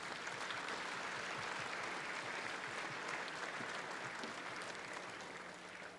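Members applaud in the House chamber on opening day, a steady, fairly distant wash of clapping that holds evenly and then tapers slightly at the end.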